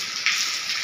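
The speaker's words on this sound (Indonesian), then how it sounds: "Hujan gede ini, guys." Heavy rain pours down in a dense, steady hiss that stays loud and close throughout the short stretch, with no voices over it.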